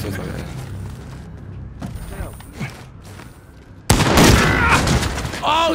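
A sniper shot in Call of Duty Modern Warfare Search and Destroy, muffled mechanical clatter and creaks before a sudden loud crack that bursts in and stays loud, with a player's voice in the mix.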